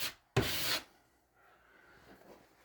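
A drywall knife smears joint compound over dimpled screw holes in a drywall panel. One short, close scraping stroke is followed by fainter rubbing scrapes in a quiet room, with no speech.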